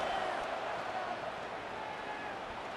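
In a college football video game, a stadium crowd roars on third down, a steady, fairly faint wash of crowd noise with no distinct peaks.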